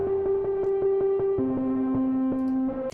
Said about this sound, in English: I also have this guitar that plays the main melody,